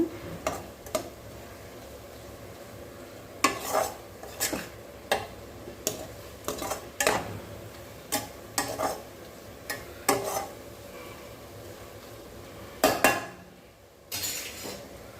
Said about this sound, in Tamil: சிம் பண்ணிவிட்டு நல்லா கிளறி கொடுங்க